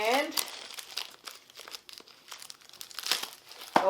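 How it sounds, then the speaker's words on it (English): Plastic wrapping peeled off a box, close crinkling and tearing in bursts, with a person talking over it. "go ahead and peel this wrapping off"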